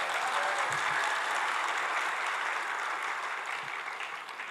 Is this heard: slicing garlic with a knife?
no